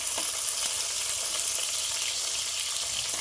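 Prawns frying in oil in a pan over low heat, a steady bright sizzle with crackling, close and continuous throughout.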